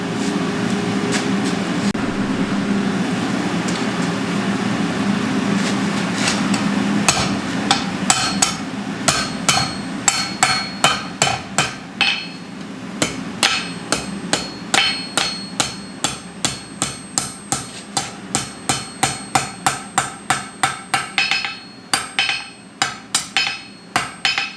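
A hammer forges steel brace arms for a fire crane in a blacksmith's shop. Loud, close metallic blows land in a steady rhythm that speeds into a rapid, regular series, with a constant background hum underneath.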